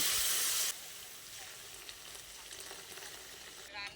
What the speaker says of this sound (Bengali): এবার এর মধ্যে দিয়ে দিচ্ছি হালকা কুসুম গরম জল